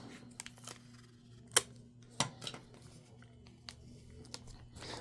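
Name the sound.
pulling and cutting packing tape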